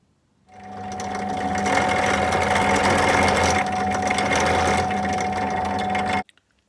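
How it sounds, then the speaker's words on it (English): A power drill bores steadily into a piece of fatwood to seat a cut length of fire steel, a continuous whirring grind that runs loud and close for about six seconds, then stops abruptly. "take a drill and drill the length of your fire steel bit that you've cut"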